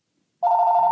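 A telephone suddenly rings while a podcast is being recorded. After near silence, a loud, steady electronic ring tone starts and sustains to the end.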